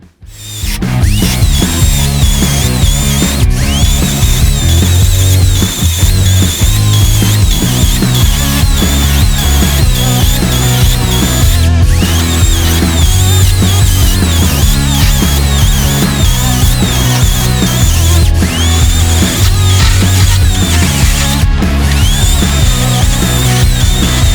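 A TAOE S16 cordless saw cuts through 100x100 mm timber, buzzing loudly and continuously with pitch dips as it bites and slows in the wood, heard up close with no talking.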